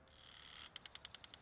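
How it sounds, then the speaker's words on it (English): Old-style impact sprinkler watering a garden: a steady hiss of spray, then a quick run of about eight evenly spaced metallic ratcheting clicks, close and clear. "This is called an impact sprinkler."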